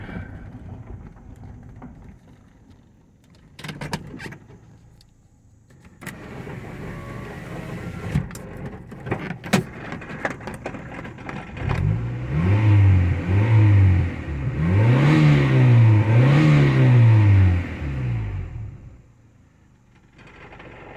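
An old Honda Prelude engine idles with a quiet hum, then revs up in several rising and falling bursts before settling back down, with some rattling clicks.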